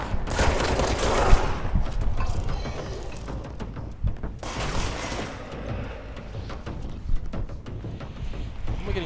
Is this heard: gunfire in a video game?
yes